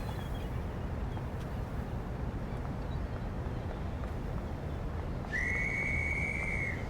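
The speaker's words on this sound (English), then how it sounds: "did you hear the whistle?" A train guard's whistle sounds for a departing intercity train at a UK station, one sustained shrill blast lasting over a second near the end, heard from a distance over steady wind and outdoor rumble.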